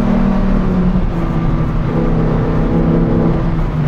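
A Lamborghini Huracan STO's engine pulls hard under acceleration, a steady loud droning tone heard from inside the car with no voices.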